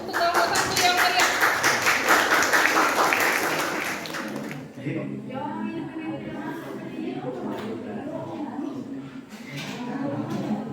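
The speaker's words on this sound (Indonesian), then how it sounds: "kita beri aplaus untuk kelompok 1 yang meriah" A classroom applauds group 1 with lively, dense clapping that fades after about four seconds, and voices murmur and chat afterward.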